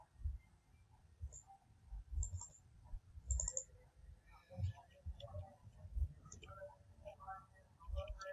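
Someone types on a computer keyboard while entering recipe ingredients, producing faint, scattered key clicks and soft taps at an irregular pace, quiet and close, with light background rustle.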